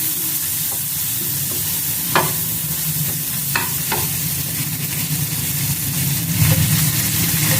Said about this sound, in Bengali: এটাকে ভালো করে এবার ভেজে নিলাম, একটু হলুদ দিয়ে দিলাম